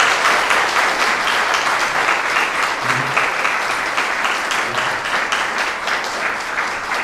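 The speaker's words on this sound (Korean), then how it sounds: "우리 박수로 축복해 주시기를 바랍니다." Wedding guests applaud warmly and steadily throughout, a sustained wash of many hands clapping at an even level with no speech over it.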